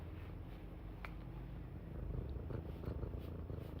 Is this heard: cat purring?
yes